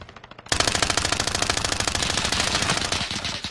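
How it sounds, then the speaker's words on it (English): A sustained burst of automatic gunfire in Call of Duty: Warzone rattles loudly and continuously after a quiet start, then tapers off slightly at the end. "Somebody shooting behind."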